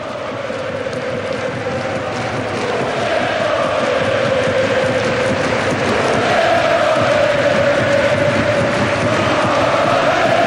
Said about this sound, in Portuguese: A torcida do Borussia não desiste